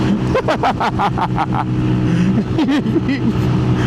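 A Honda Navi small motorbike being ridden, its engine droning loudly and close with short revving pulses, while someone talks excitedly over it.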